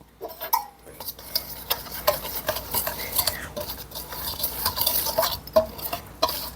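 Dry crêpe batter ingredients, flour with a pinch of salt, being stirred together in a bowl, a close, rhythmic scraping and swishing of a utensil against the bowl that rises and falls, with no speech.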